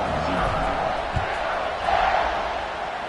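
Home crowd in a college football video game stadium roaring steadily, a broad sustained cheer with a brief swell partway through, loud throughout with no clear talk.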